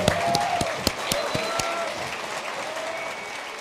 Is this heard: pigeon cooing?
no